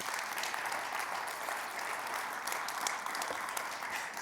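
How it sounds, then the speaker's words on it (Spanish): A church congregation applauds, with many hands clapping in a continuous, even wash of sound, at moderate to low level throughout with no talk over it. "¿Por qué no le das un fuerte aplauso al Señor?"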